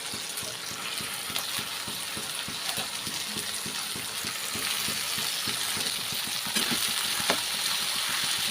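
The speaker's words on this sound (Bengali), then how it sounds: "এবার আমি অল্প অল্প করে কপিটা তুলে দেবো।" Cabbage fries in a pan of hot spices, giving a continuous close hiss of sizzling oil with scattered small crackles and light stirring ticks throughout.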